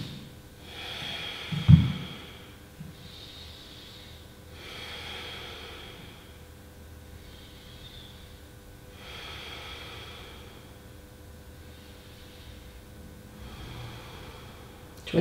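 Slow, deep breaths during a stretching routine, soft rhythmic inhales and exhales repeating every couple of seconds, faint and close, with one sharp snort-like breath near the start.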